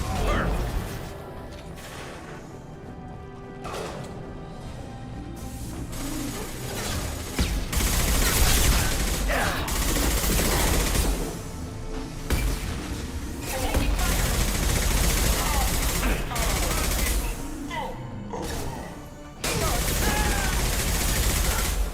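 Gunfire from the Mass Effect video game rattles in loud, repeated bursts of shots and impacts over a busy combat soundscape, with someone talking now and then over the firefight.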